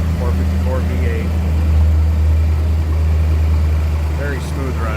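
A 1987 Chevrolet Suburban's 454 V8 idles steadily with a deep, even low rumble, heard up close in the engine bay, and a voice talks over it at points.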